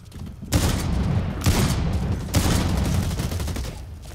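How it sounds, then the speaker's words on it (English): Bursts of automatic gunfire in the online shooter Blacklight Retribution, three loud volleys of rapid shots starting near the start, around the middle and later, close and sustained with a brief lull between them. "Oh, someone's shooting at me."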